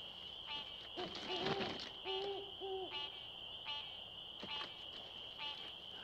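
An owl hoots in Shenandoah woods in springtime, a few soft, repeated calls set against a constant high insect-like drone and faint croaking frogs.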